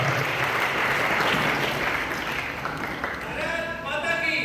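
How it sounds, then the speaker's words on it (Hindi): A crowd applauds loudly to welcome the chief guest at a national children's science exhibition. The dense, continuous clapping thins out toward the end, and a voice starts speaking. "एक बार फिर से जोरदार तालियों से स्वागत कीजिए हमारे आज के मुख्य अतिथि का"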